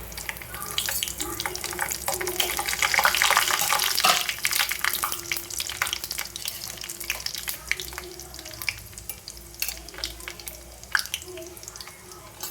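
Raisins fry in hot ghee with cinnamon, cloves and cardamom for a rava payasam, making a continuous close hiss and crackle with scattered small pops that swell and then settle over about twelve seconds, with no talking.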